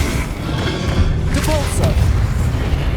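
Confringo, a fiery blast spell in Hogwarts Legacy, goes off as a dense, booming burst with thuds and a crackling roar that fills all three seconds amid ongoing combat noise.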